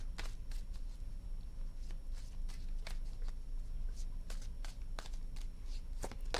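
Tarot cards shuffled by hand in a run of about a dozen quick, crisp card slaps and riffles spaced irregularly over several seconds, close up above a low steady hum.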